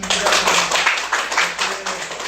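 A classroom audience applauding, a brief burst of close, rhythmic hand clapping lasting a couple of seconds.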